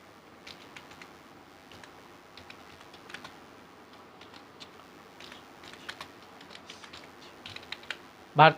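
Typing on a computer keyboard while working in Microsoft Word 2019, a steady patter of light key clicks running throughout at close range, with a louder burst near the end.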